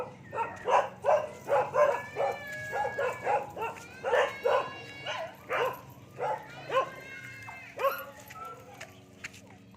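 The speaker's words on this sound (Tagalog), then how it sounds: "Kaya balik, may mga aso dito." Dogs outdoors bark in a quick run of sharp, fairly close yaps, then trail off into softer whimpering and yips, with faint background noise beneath.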